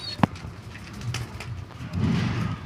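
Homing pigeons and their squabs coo softly in a loft, low throaty murmurs rising near the end, with one sharp click and faint rustling early on.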